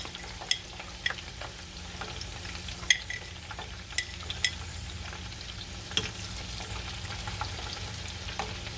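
Salmon fillets frying in a non-stick pan, a steady soft crackle with scattered sharper pops and clicks, close by and fairly quiet, with no voices.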